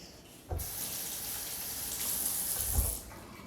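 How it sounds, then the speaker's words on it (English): Tap water runs steadily from a kitchen faucet for about two and a half seconds, rinsing a knife and cutting board coated in tomato juice, with a splashy onset and a thicker gush near the end before shutting off. "We are also going to rinse off the knife and the cutting board because it has tomato juices all over it."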